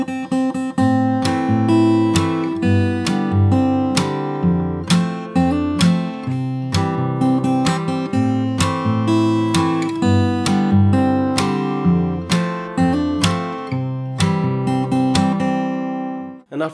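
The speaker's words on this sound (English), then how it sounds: "I'll play the whole thing once from the start till this point in the original tempo." A fingerstyle acoustic guitar arrangement of a song plays steadily at full tempo, plucked bass and melody notes in a continuous rhythmic pattern, close and solo with no speech.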